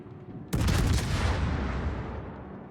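A loud naval gun salvo from an enemy ship in the Zao ship battle game, a sudden heavy blast followed by a long rumbling decay, with no talk.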